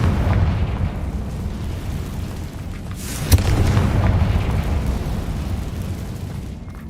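A Confringo fire spell goes off in the video game Hogwarts Legacy. It gives a loud, continuous booming rumble with one sharp burst partway through.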